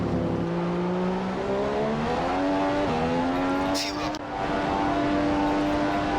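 A Formula 1 car from the F1 2015 video game at Monza, its high engine whine rising steadily through the gears with brief dips at each upshift, loud and continuous from the cockpit.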